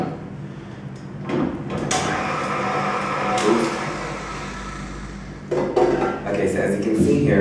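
A spoon scrapes sticky baguette dough out of a stand mixer bowl, with scattered clinks and scuffs of metal on the bowl while a person talks.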